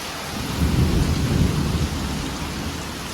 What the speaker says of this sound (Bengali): কি জোর বৃষ্টি হচ্ছে খালি তোমরা দেখো